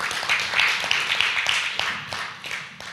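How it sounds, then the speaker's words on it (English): Audience applause at a conference session on opportunity crops, a brisk scattered round of claps from a modest crowd, fairly close and fading slightly toward the end. "we can give a round of applause to"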